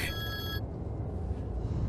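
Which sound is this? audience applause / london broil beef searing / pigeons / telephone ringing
telephone ringing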